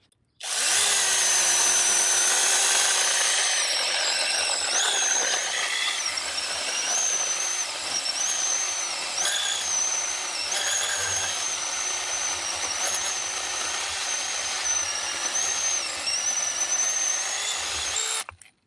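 An IMOUMLIVE 6-inch brushless mini cordless chainsaw whines at high pitch while cutting through wood, running continuously and close for a long stretch before cutting off.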